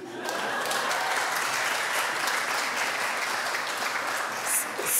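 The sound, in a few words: audience applause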